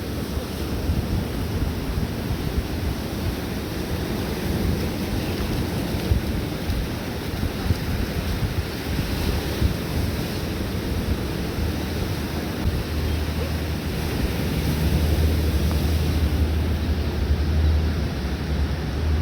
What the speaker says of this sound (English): Ocean sounds are peaceful, Katie.